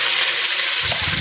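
Onions, green chillies, mint, cloves and biryani spices frying in a pan over a wood fire for chicken pulao, giving a steady close sizzle with a low crackle that swells near the end.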